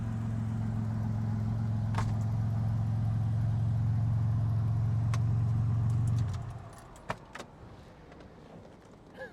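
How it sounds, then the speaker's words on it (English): A fuel-injected rat rod truck engine idles with a steady low rumble for several seconds, then shuts off, leaving quiet with a few small clicks and rattles. "Gotta let it idle down a little bit because it's fuel injected"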